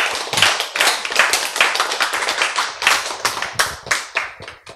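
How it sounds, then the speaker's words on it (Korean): Several people in a Bible lecture hall clap in a brisk, uneven rhythm, a close series of sharp hand claps lasting a few seconds with no speech. "네, 박수 좋죠."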